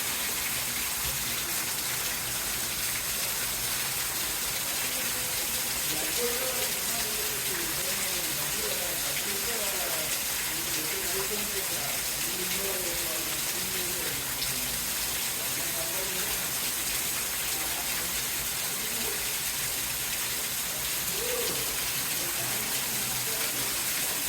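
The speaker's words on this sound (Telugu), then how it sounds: "నాకు తెలిసి ఆ పైన పైపు బ్లాక్ అయిపోయి ఉండాలి, లేదంటే హెవీగా రావడం వల్ల వర్షం అదంతా ఫ్లోట్ అంతా ఇట్లా వచ్చేసింది." Heavy rainwater gushes and splashes steadily from a blocked pipe during a downpour, a continuous hiss of flowing water with faint talk underneath.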